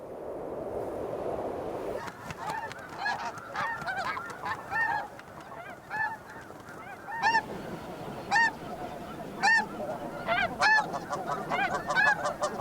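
Many snow geese honk repeatedly over a low wind-like rumble, their calls bursting out in overlapping clusters, some near and loud, others farther off.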